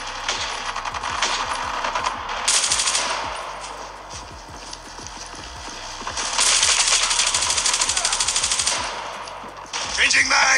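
An automated sentry gun fires in a video game, sending long bursts of rapid, loud rattling gunfire that swell and ease over about ten seconds, with metallic clinks scattered under the shots.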